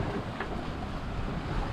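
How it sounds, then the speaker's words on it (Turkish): Choppy Atlantic Ocean waves slosh and wash around a sailboat sailed single-handed, blending with steady wind buffeting the microphone into a continuous broadband roar. "Dalgalar hala karışık geliyor."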